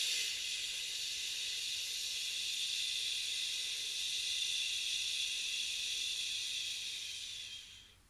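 Slow, steady shhh exhalation, a long continuous breathy hiss held close to the ear like steam escaping from a pressure cooker, fading out at the end with no talking.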